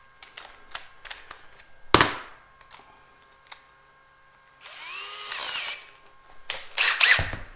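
A power drill bores through the back panel of a sink base cabinet in short bursts, sharp isolated clicks and whines with quiet gaps, one louder grinding stretch near the middle, close and fairly faint.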